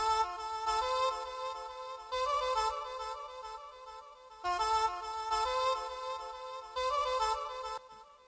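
Looping vocal chop samples in a music arrangement play as repeating tonal phrases in a steady pattern, each bar returning with a brighter accent, clean and quiet with no talking.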